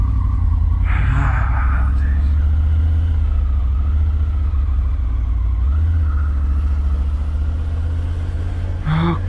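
A motorcycle engine rumbles steadily and close on the highway at the start of a long ride, a constant low drone with wind noise and occasional brief higher bursts.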